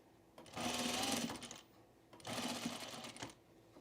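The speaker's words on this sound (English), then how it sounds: "I'm just going to sew this around these 3 sides and then try and turn it" A sewing machine stitching pre-quilted fabric for a Tamarack jacket runs in two steady, close bursts of rapid whirring, each about a second long, separated by a short pause.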